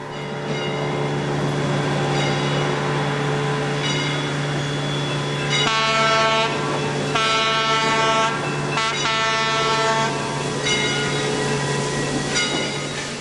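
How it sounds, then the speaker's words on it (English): A Heisler steam locomotive rumbles steadily nearby with a constant low drone, joined by repeated bursts of whistle-like horn tones in the middle stretch, as it heads around a loop. "Number 40 leaves the cars and heads around the loop."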